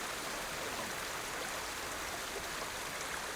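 Steady rushing water in the video game Ghost of Tsushima, a continuous broadband wash like a stream or water slide, loud and unbroken with no talk.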